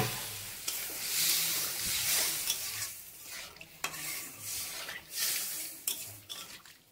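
Water is poured into a hot pan of potatoes and poppy seed, setting off a loud hiss and sizzle, followed by repeated stirring scrapes and clinks against the pan, with no talking.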